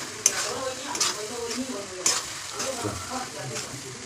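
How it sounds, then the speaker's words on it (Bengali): Bread crumbs being stirred in a hot pan make soft sizzling and scraping, broken by a few sharp utensil taps against the pan, close and fairly quiet. "এই ক্রামটাকে আমরা ঢেলে দেবো, দিয়ে এটাকে ভালো করে নাড়বো"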